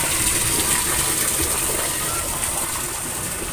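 Water gushes steadily and loudly from a spout in a village after rain, a continuous close rushing splash with no pauses and no talking.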